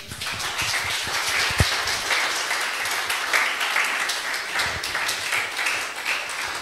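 A church congregation claps and cheers in praise, producing dense, sustained applause that stays loud and lively from start to finish, with a single sharper knock partway through.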